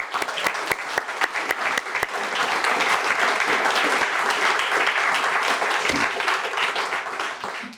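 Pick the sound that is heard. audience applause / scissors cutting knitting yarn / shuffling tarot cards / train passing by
audience applause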